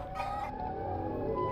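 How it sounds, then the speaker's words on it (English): A chicken clucks and crows in a staged Hulk versus Siren Head backyard scene, a steady run of fowl calls with no talk over it. "there's the chicken"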